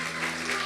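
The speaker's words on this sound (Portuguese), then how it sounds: "Aplausos para o Mindu" Audience applause during a church service, a brief burst of dense, fairly loud clapping.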